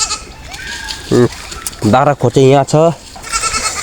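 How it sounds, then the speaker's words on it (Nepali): Goats bleat in several wavering, nasal calls close by, mixed with brief talk from a person nearby. "अनि बाख्रा भित्र पसिसक्यो, अहिले भित्र बाख्रा हालिसक्यो।"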